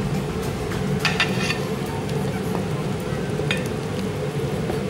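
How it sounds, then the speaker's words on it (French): Okra and sausages sizzling in a pot of Cajun chicken and sausage gumbo, a steady frying crackle with a few soft clinks of stirring. "J'ajoute les gombos ainsi que les saucisses."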